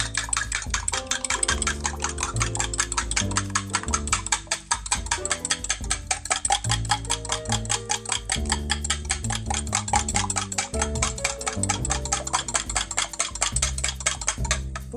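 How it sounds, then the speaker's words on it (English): Eggs being beaten, five of them in a bowl, a fast steady ticking of whisk against the sides repeating without pause, fairly close and alone with no voices. "Excuse me while I beat my eggs."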